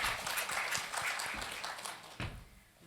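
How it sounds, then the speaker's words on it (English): Quiet, scattered audience applause at a talks event, a small room of people clapping faintly and irregularly for a few seconds. "So if you give her a round of applause."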